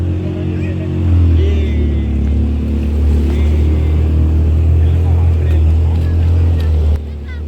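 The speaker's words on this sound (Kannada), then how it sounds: "ಪ್ರಿಷಾ ಬೋಟ್ ಸೌಂಡ್ಗೆ ತುಂಬ ಹೆದರ್ಕೊಂಡ್ಬಿಟ್ಲು." A steady, droning motorboat engine runs throughout at a constant loud level, cutting off abruptly near the end, on a boat ride at Cubbon Park.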